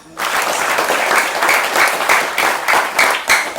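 Audience applause at an Islamic gathering with hadroh music and religious teaching, a dense burst of many hands clapping steadily at close range, starting abruptly and continuing without talk.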